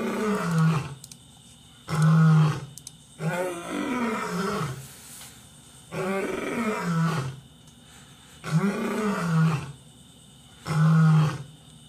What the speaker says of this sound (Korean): 확실히 호랑이 소리가 좀 멋있긴 하지